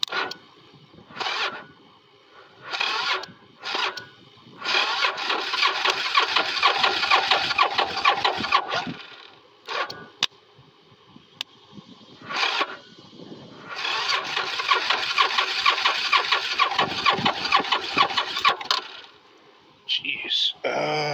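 A carbureted engine with its choke on cranks and catches in several short bursts, then runs roughly at a loud, uneven idle in two longer stretches between pauses, close by, with someone talking in between.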